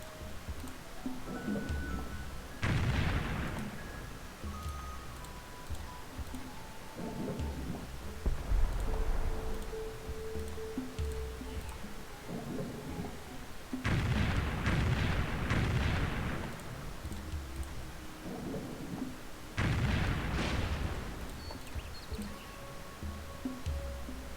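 Repeated artillery bombardment from a World War 2 scenario in Civilization III, with three main clusters of heavy booming bursts spaced several seconds apart over a steady low game backdrop and faint music.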